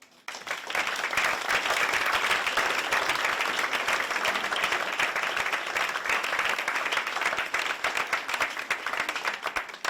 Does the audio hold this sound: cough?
no